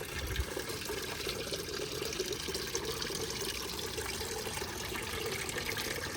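Water runs steadily into a garden container outdoors, a continuous broadband rush with no break, close and fairly loud.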